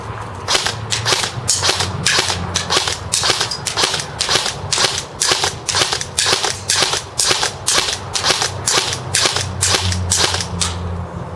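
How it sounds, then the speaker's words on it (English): An SR12 M4 airsoft rifle fires 0.28 g BBs on semi-automatic, giving about two dozen sharp, loud cracks at a brisk, fairly even rhythm, close to the listener, with no talking. "But first I'm going to be shooting, this is the SR12, the longer M4 variant."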